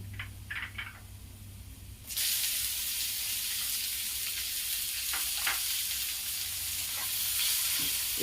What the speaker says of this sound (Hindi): अब इसमें मैं प्याज डाल दूंगी।